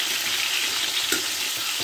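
Steady hissing sizzle of potatoes frying in a hot pan, with a couple of soft stirring knocks near the end; no talking.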